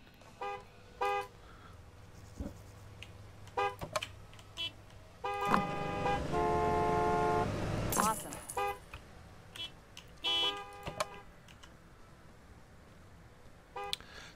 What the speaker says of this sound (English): Did she just honk at me?